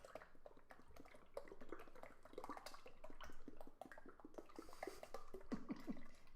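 Whipping cream pours and splashes into a bowl for a large batch of homemade butter, a soft continuous wet sloshing with small drips, faint and close.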